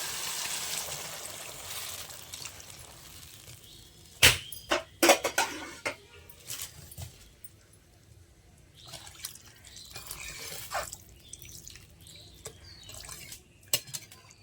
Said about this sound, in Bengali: এখন ঝোলের জন্য পানি দিয়ে দিচ্ছি।